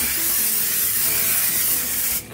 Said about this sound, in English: Cooking spray goes down.